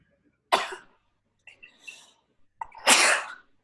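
Two sharp sneezes from one person, close and fairly loud, split by a soft intake of breath, the second sneeze longer and stronger than the first.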